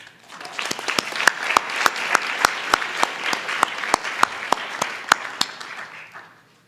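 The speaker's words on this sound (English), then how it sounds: "I think each of them deserves a round of applause." A crowd at a school board meeting breaks into sustained applause, with a few sharp individual claps standing out, building quickly and fading away at the end.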